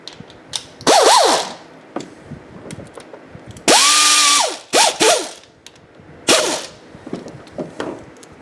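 A ratchet tightens a bolt on the engine of a 2013 Dodge Challenger during a timing cover install. Several loud, close bursts of clicking are mixed with a longer whirring burst and short mechanical squeaks.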